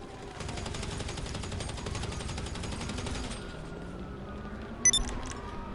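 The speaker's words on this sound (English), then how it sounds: "They just started shooting at me." Gunfire in GTA 5, a rapid continuous burst of automatic shots for the first few seconds, then quieter background noise with a single sharp shot near the end.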